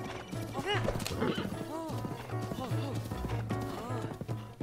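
Horse hooves clip-clop at a gallop in the video game The Legend of Zelda: Breath of the Wild, with whinnies and game music layered over the steady, close, loud running rhythm.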